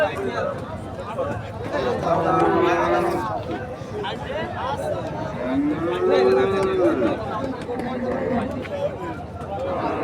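Cattle moo twice, long low calls rising and falling, amid a busy crowd of people chattering and bargaining at the Khania outdoor cattle market.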